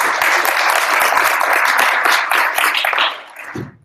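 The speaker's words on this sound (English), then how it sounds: "So please give a round of applause to Team One." A meetup crowd at a tech talk breaks into dense, sustained applause with many hands clapping close by, holding steady before tapering off quickly near the end.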